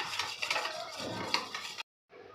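A spoon stirs a flour batter mixture for thapatvadi in a bowl, with soft irregular scraping and clicking strokes close up for about two seconds before a brief silence, and no one talking.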